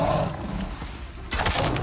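Bear roaring in the Icarus survival video game, a short rough growling roar up close, swelling again near the end.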